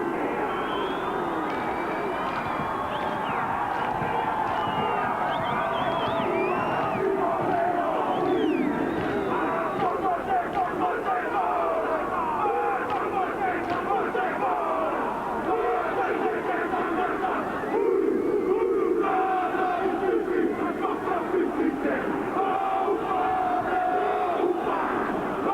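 A packed stadium crowd roars through the haka at a 1998 New Zealand versus Australia rugby league match in Auckland, a dense, sustained wall of shouting and cheering for the whole stretch, with commentary voices under it.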